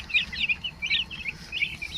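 Chickens and roosters, including a black rooster drinking water alone, make quick high chirps and soft clucks in short repeated bursts over a quiet background, fairly close and without talk.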